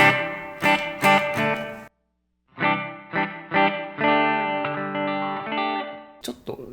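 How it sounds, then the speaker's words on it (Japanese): An electric guitar through a ZOOM MS-50G multi-effects pedal's spring reverb plays short chords and single notes with gaps between, each ringing out with a splashy, wobbling reverb tail. "スプリングリバーブを置いてみたいと思います。"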